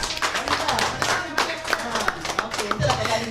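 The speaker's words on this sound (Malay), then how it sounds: "Beri tepukan buat RSM Nik Nur Ali ni" A small group claps in a quick, uneven patter for about three seconds, close by, with voices talking over the hands.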